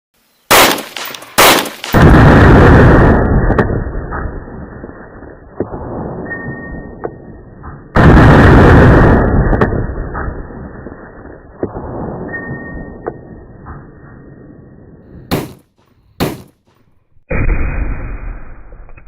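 A .358 Yeti rifle fires into a gel block, with sharp, loud gunshots: a quick cluster of cracks, then a long booming blast trailing into echo, a second big blast, and several more sharp reports near the end.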